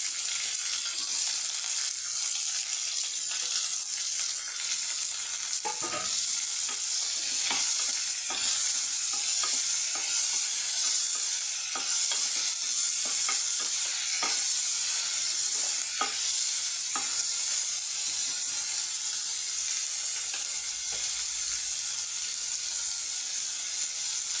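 Onions sautéing in a pan with curry leaves, a dense, loud, continuous hiss of frying with frequent spoon scrapes and clicks as they are stirred, close and steady throughout.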